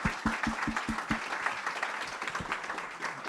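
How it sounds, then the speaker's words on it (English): An audience at a resilience panel discussion claps for the panelists, beginning with a few distinct rhythmic claps that blend into a moderate, fading round of applause in a hall. "A round of applause for our panel"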